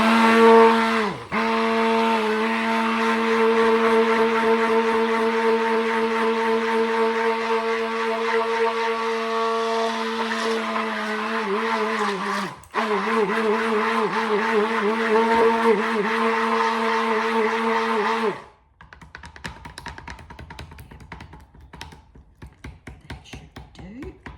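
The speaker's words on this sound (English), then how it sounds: "Now I'll whisk the white." White cold process lavender soap batter is whisked with a loud, steady, whining tone that wavers in pitch. It breaks briefly twice, then stops abruptly near the end, leaving faint handling sounds.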